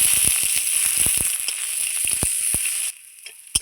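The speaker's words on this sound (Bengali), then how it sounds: "সামান্য একটু তেল দিয়ে আদা আর রসুন আমি ভেজে নিচ্ছি।" Ginger and garlic frying in a little oil, a close, steady sizzle with scattered crackles and light pops that drops away near the end, no talking.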